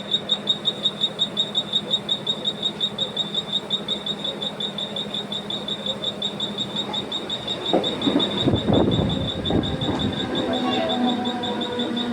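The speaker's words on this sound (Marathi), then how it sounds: "ट्रेन आली" Rhythmic clatter of a train arriving at a station, wheels beating steadily, with a high tone and birds chirping; louder rumbling and screeching near the end.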